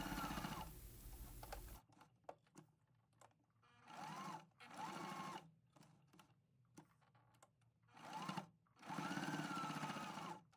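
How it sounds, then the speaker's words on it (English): A sewing machine top-stitches with a 3mm stitch around the edges of a fabric keychain wallet flap, in several short, close bursts of rapid clatter separated by pauses. "I'm using a 3mm stitch to top stitch around the edges of the flap."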